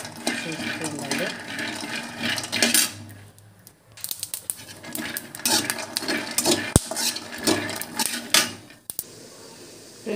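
Peanuts being roasted in a pan for chutney, a spoon scraping and clinking against the metal as they are stirred, with irregular rattling bursts while a person talks.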